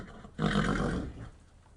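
A horse lets out a short, loud, rough snort or whinny lasting under a second, close by, with no talk over it.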